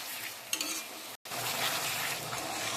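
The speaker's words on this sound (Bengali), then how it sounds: "মশলাটা একটু মানে আদা রসুন দেওয়া, তো একটু ভালো করে আমি কষিয়ে নিলাম।" A spice paste of ginger, garlic, tomato, chili and cumin being stir-fried in a pan, a steady close sizzle with a few stirring scrapes and a brief dropout in the middle.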